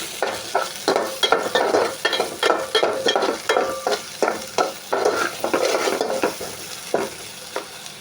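Fish with salt being stirred in a frying pan, a rhythmic series of scraping spatula strokes about twice a second over a low, steady sizzle, close and with no voices.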